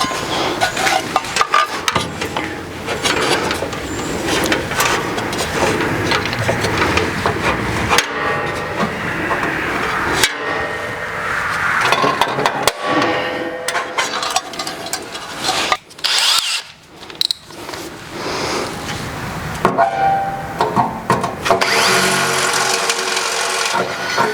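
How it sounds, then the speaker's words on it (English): Bursts of power-tool whirring and drilling holes into wood, stopping and starting with short pauses, with knocks and scraping between runs, during a CNC router build. "I just want to use this for a template to drill the holes."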